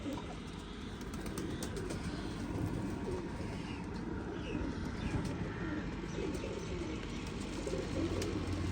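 Teddy pigeons coo softly in a loft, a continuous murmur of low calls and occasional chirps under a steady background hum, with no voices.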